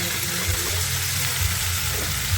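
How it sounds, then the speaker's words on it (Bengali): Spice paste added to hot oil with already fried potatoes, while cooking a katla fish curry with yellow cauliflower, gives a steady close sizzle and hiss that runs without pause and has no talk over it. "মশলাটা দিয়ে দেবো তেলের উপরে"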